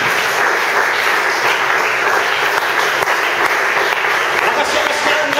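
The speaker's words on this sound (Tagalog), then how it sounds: "Palakpakan po natin ang ating Panginoon" A church congregation claps loudly and steadily in praise of the Lord, a dense wash of many hands with voices mixed in throughout.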